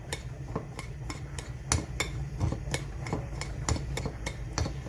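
A spoon mixes breadcrumbs with curry powder and pepper in a bowl, tapping and scraping against it in a regular ticking rhythm, soft and close, with no talk.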